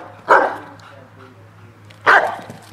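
A Rottweiler in guard-dog training gives two loud, deep barks about two seconds apart, close by, with quieter background sound between them.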